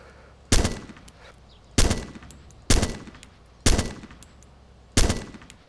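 Single loud gunshots in a military shooter video game fire at a steady, roughly one-second rhythm, five sharp reports in all, each trailing off into a short echo.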